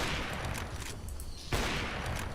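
AWP sniper rifle shots in Counter-Strike 2, crouched firing, heard as dense, loud gunfire with a sharp blast around the middle over continuous noisy game action.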